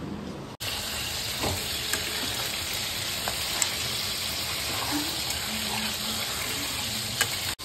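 Chicken being sautéed down in a pan over heat gives a close, steady sizzle and crackle that runs unbroken the whole way through, with a brief dip near the start and no talk.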